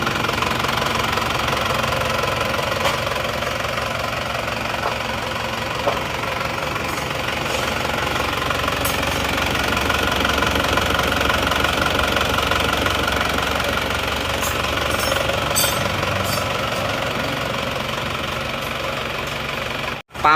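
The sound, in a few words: Isuzu Panther engine running after first start since rebuild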